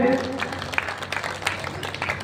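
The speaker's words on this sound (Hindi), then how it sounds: "एक बार अपने लिए जोरदार तालियां बजा दीजिए।" A large audience at an outdoor pandal gathering for a Hindi poetry recitation breaks into applause, a brief burst of clapping that thins out quickly.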